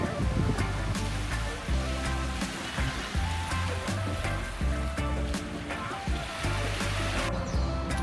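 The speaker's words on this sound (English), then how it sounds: "So finally made it to the beach." Surf breaking on a beach in Hawaii at early morning, a steady broad wash of waves that stays loud and continuous throughout with no clear gaps.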